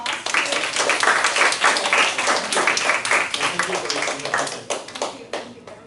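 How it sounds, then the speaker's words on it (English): After an invited talk, the audience gives a round of applause, dense clapping that rises fast, holds loud for several seconds and then thins out, with a voice faintly underneath. "Let's give another round of applause to"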